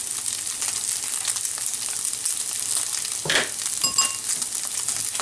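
Tomato puree for a beef bolognese goes into a hot frying pan, with a steady close sizzle and a brief louder hiss and spatter as it lands.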